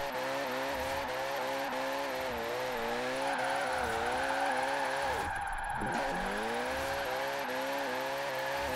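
A drift car in Forza Horizon 4 holds a sustained, straining engine note with a long tire skid and a brief dip mid-run as it shifts, loud and continuous without speech.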